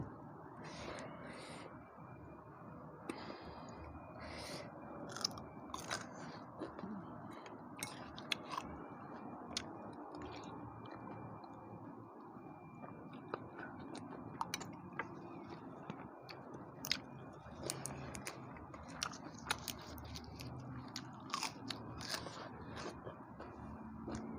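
Someone eating Vietnamese-style rice noodle soup, with soft close-up chewing, slurping and little clicks of utensils going on steadily at a low level and no clear talking.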